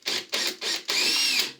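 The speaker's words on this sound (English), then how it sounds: "We take the drill, we drill a hole," A power drill bores a hole through plasterboard on a stud timber wall, sounding in three short whirring bursts followed by a longer sustained run as the bit breaks through, close and loud, with no voices.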